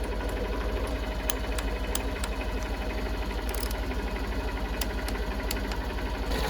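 A Honda CB125F motorcycle engine idles steadily nearby, a constant rapid chugging rumble with no change in pace.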